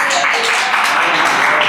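A church congregation claps loudly during a Spanish-language sermon, producing a dense, bright wash of applause with some voices mixed in, sustained throughout.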